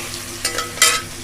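One large garlic clove frying in a pan, a steady sizzle with two short bursts of scraping as it is stirred.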